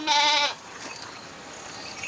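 A single loud goat bleat, about half a second long, rings out close by on a farm, followed by quieter ambient background.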